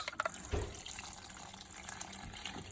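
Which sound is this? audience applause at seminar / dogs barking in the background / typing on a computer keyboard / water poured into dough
water poured into dough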